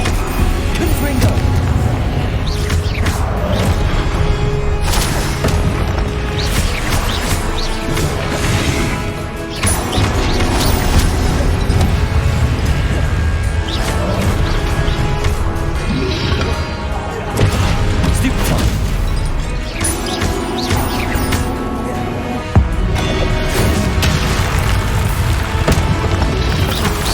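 Confringo explosive spell blasts in Hogwarts Legacy crash and thud repeatedly through a loud, dense battle soundscape, with irregular impacts and bursts spread across the whole stretch and voices calling out among them.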